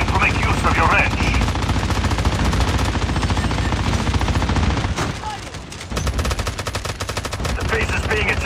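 Rapid automatic gunfire from a turret assault in Call of Duty Mobile zombie mode, dense continuous bursts with a brief lull, loud and close, with voices over the shooting.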